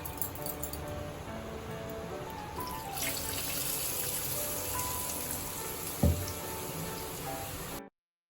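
Boondi drops of gram flour batter fry in hot oil in a kadai for laddu, giving a continuous close crackling sizzle with a brief clink partway through before it abruptly stops.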